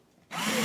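After a moment of quiet, a drill starts up abruptly and whirs steadily as it bores into material.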